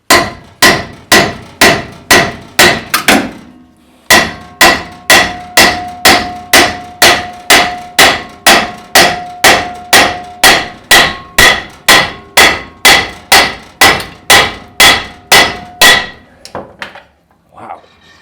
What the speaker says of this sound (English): What if we just hit it with a hammer?